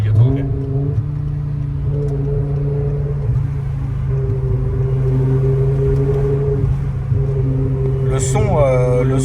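A BMW car's engine and exhaust drone steadily from inside the moving car with a deep, even hum, then rise briefly in a rev near the end.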